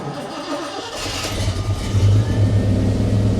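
A 1992 Chevrolet Silverado with a weak, nearly dead battery cranks its engine, first a strained whir, then a loud, slow, labored rhythmic chugging close by.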